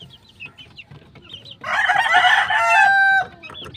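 Chickens crow and cluck while being moved into a new cage, a loud burst of crowing rising over scattered nearby clucks and rustling, then tapering back to soft clucking.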